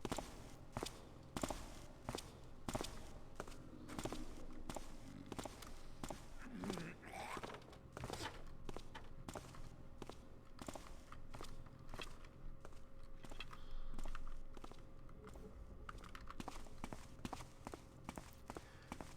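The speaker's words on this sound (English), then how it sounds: "that footsteps that we're hearing is the guard who was just chasing me" A guard's footsteps in Thief 2: a steady run of faint, crisp steps on a hard floor, repeating at walking pace for about nineteen seconds with a quiet ambient background and a low hum.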